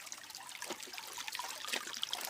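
River water trickles and splashes softly as laundry is rinsed in a river, a faint, continuous wet patter with small irregular splashes and no voices.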